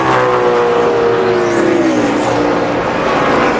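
NASCAR Cup Series stock cars racing in the Pennsylvania 500, a loud, close engine roar whose pitch sweeps down as a car passes by, with steady race noise throughout.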